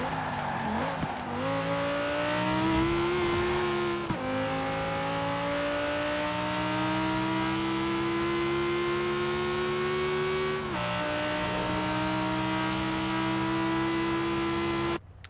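A powerful sports car engine in Forza Horizon 4 climbs through the revs in long pulls, dropping briefly at each gear change, with tire squeal and a loud, close, sustained roar while drifting around a city.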